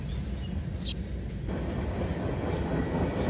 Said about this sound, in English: There was some new paint scheme CSX gondolas on this train here.